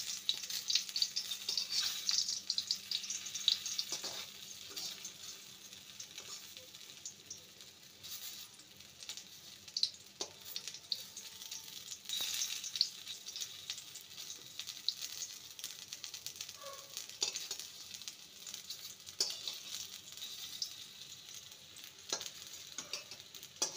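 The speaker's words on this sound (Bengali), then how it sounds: "এপিঠ ওপিঠ হালকা লাল করে ভেজে নেব। এবার এগুলোকে উল্টে দেব।" Oats balls fry in oil in a pan with a soft, continuous sizzle and crackle, fairly quiet and close, broken by occasional light clicks and stirring taps as they are turned.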